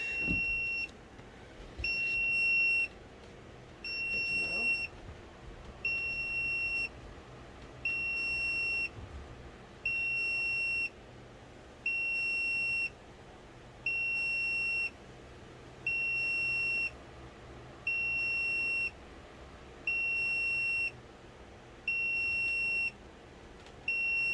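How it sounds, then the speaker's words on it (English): Regular electronic beeps from a new incubator repeat about once every two seconds, a steady high-pitched pattern of short tones over a quiet room hum, with no talking. "see if it'll stop beeping"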